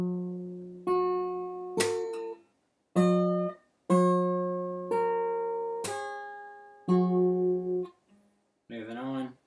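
Fingerstyle acoustic guitar playing a slow practice pattern at about 30 to 50 bpm, with ringing plucked chords, pull-offs and percussive string slaps on the bass strings, several separate phrases with short gaps, close and clear.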